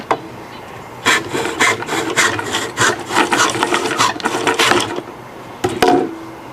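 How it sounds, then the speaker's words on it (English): Vintage Stanley hard-tooth hand saw cutting into a wooden tool handle, a run of quick, rasping strokes close by, pausing briefly before a few final passes. "Going to be using our vintage Stanley hard-tooth saw here."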